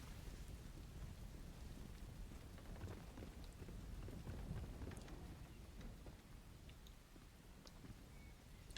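Steady rain in Subnautica patters down at low volume, a soft continuous hiss with scattered drops and no voices.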